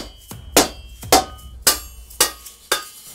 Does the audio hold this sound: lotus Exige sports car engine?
no